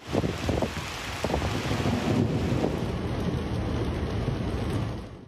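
Heavy rain pours steadily during a thunderstorm in Antalya, a dense continuous wash of noise that builds early, holds for several seconds and then fades out.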